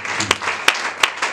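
A church congregation at a Sunday service applauds, a dense patter of many hands clapping steadily, broken by a few sharp, louder individual claps close by.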